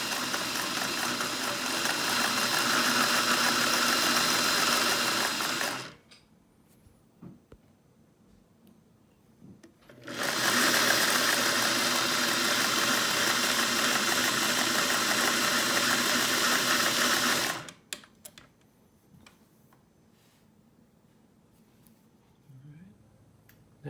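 A 1950s Singer 401A sewing machine runs in two steady, loud bursts of rapid whirring stitching, roughly six and eight seconds long, separated by quiet pauses filled with small clicks and handling noises.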